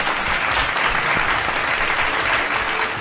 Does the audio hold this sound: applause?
yes